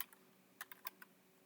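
Light keystrokes on a computer keyboard while a pip install command is entered, a few quick clicks in a short burst, faint and close, with no talk.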